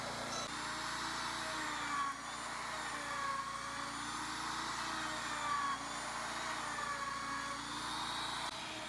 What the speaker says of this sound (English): I have a surfacing bit in my router, and I'm just making passes about 2/3 the width of the router bit